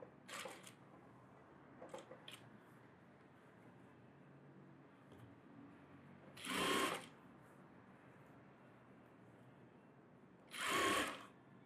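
A sewing machine stitches a net model blouse in two short, fairly loud mechanical bursts separated by quiet pauses, with faint handling noise early on.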